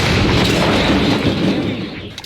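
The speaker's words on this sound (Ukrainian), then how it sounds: "Гармата! Постріл!" A loud, sustained roar of artillery gunfire fills the whole clip, dense and rumbling with no pauses and no voices.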